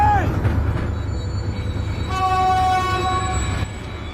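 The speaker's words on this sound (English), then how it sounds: "A train was coming behind." Train bearing down on a man standing on railway tracks in a film scene, a loud steady rumble with sustained horn-like tones rising through the middle, continuous and close.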